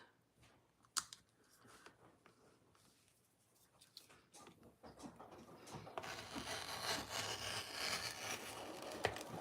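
Sewing by someone on a Bernina sewing machine for the first time: the clip opens quiet, then from about halfway a steady, moderately loud mechanical running builds and continues to the end, without talk.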